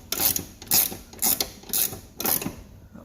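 A ratchet wrench tightens a rear differential torque arm bushing bolt on a 2006 Toyota Sienna, five quick close bursts of metallic clicking in an even rhythm, no voices.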